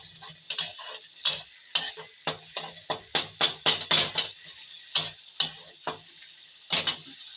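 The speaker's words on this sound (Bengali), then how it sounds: "আবারও একবার নেড়ে দেবো ভালো করে।" A spoon scrapes and knocks through a pan of small-fish chorchori curry, about a dozen crisp strokes in an uneven rhythm, close and fairly loud over a faint sizzle.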